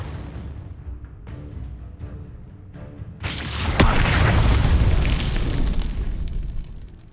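A Confringo explosion spell cast in the Hogwarts Legacy video game: a few seconds of quieter tonal game ambience, then a sudden loud, close blast with a sharp crack that swells into a roaring, rumbling burst and fades slowly, with no talking.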